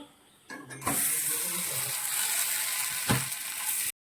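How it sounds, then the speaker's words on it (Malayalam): A parotta flatbread fries in a hot pan, giving a steady, close sizzle that starts abruptly and holds for about three seconds, with a brief clatter near the start and a sharper crackle toward the end before it cuts off. "പൊറോട്ട രണ്ട് സൈഡും നന്നായിട്ട് ഒന്ന് മൊരിച്ചെടുക്കണം."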